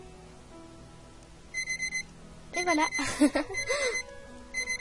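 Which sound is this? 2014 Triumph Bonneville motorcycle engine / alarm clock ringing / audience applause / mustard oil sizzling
alarm clock ringing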